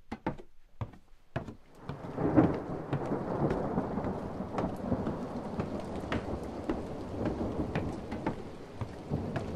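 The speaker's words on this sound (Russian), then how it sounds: "Раздался гром, и в город пришла великая гроза." A great thunderstorm breaking over a town: a few sharp cracks and knocks at the start, then a deep rolling thunder rumble swelling into steady heavy rain that continues throughout, with no voices.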